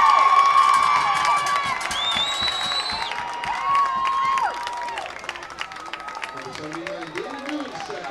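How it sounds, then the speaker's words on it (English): Crowd cheering and applauding at a high school football game between Weymouth and Attleboro, a broad roar with shouts and whistles under a commentator's voice, easing off near the end. "David Nunes is getting a big applause."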